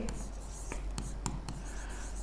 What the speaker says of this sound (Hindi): वो लिखेंगे।